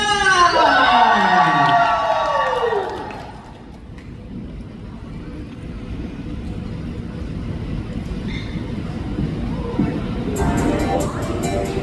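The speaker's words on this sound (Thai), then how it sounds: "กรี๊ดดังๆนะครับ" A fan crowd screams and cheers loudly for a Thai music performance in the opening seconds, the shrieks falling away into a lower, noisy crowd murmur that continues.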